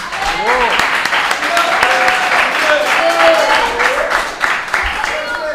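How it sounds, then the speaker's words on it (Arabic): A studio audience gives sustained, enthusiastic applause for first-year students at a school battle event in Casablanca, thick clapping with cheering voices throughout. "صفقوا عليهم بزاف"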